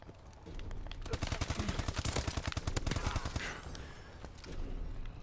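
Rapid automatic gunfire rattles in a dense burst through the middle of a Call of Duty: Advanced Warfare team deathmatch, with more scattered shots and game noise on either side.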